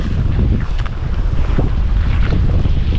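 Strong wind roars and buffets steadily across the microphone beside a rural canal near rice paddies, a loud continuous rushing with gusty swells and no voices.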